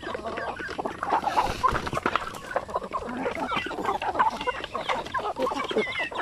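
Chickens raised for meat cluck continuously at close range, several birds overlapping in busy, uneven bursts.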